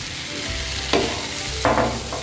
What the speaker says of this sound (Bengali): চাল, ডাল আর সবজি এবার ভালো করে ভেজে নেবো।